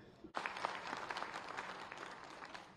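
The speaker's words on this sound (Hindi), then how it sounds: "जोरदार तालियां तो बनती ही हैं" Audience at a workshop for newly elected mayors and municipal council chairs bursts into loud, sustained applause after a brief pause, dense clapping continuing steadily to the end.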